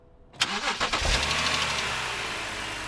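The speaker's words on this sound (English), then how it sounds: "Now the engine started up." A car engine, just washed with a garden hose, cranks and catches, then settles into a steady, smooth idle, close and continuous.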